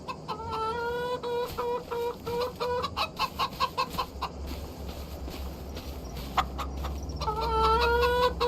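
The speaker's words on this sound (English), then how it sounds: "Nice rooster." A rooster in the Farming Simulator 25 video game clucking repeatedly, close and loud, in rhythmic bursts that fade into a quick run of clicks, then return with steady clucking over a low rumble.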